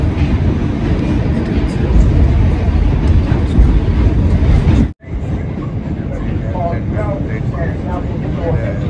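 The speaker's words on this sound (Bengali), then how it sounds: "মেট্রো ট্রেন করে যাচ্ছি" Loud, rumbling New York metro train ride from Coney Island, with a continuous rattling roar, a brief sudden drop, then steady rolling noise and faint squeaks.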